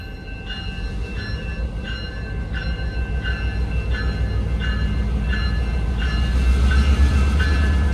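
A train rolls steadily through a railroad crossing whose arm was damaged by a semi, its rumble growing louder while the crossing bell rings in an even, repeating rhythm throughout.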